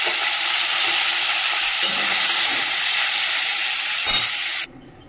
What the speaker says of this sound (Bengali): তুলে নিয়ে এই তেলেই চলো তেলের মধ্যে চিংড়ি মাছটা ভেজে নিই।